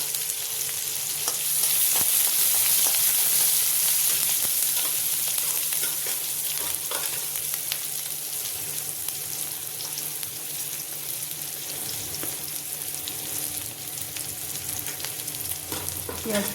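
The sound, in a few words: frying chopped onion and green chili for oats khichdi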